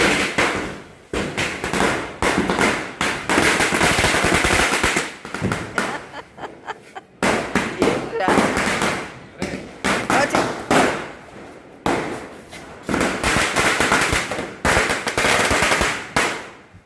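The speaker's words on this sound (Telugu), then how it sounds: "నాకు సేమ్ పటాసులు అంటే ఇష్టం అండి సేమ్ టపాకాయలు అవి అలాగ చేతితో వెలిగించి వేసేస్తూ ఉంటాను" Hand-lit Diwali firecrackers go off in rapid sharp bursts, volley after volley with short pauses over about seventeen seconds, with a few voices now and then.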